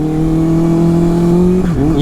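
A motorcycle engine drones steadily at a near-constant pitch, then dips as the bike slows on engine braking alone on the street, loud and close, with wind rush throughout.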